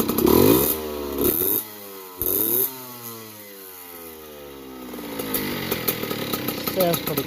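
A 1982 Yamaha YZ50 dirt bike two-stroke engine being revved in bursts, with rising and falling pitch sweeps, then settling into a buzzy idle and climbing again; loud and close, its oil-burning condition after diagnosing a fault.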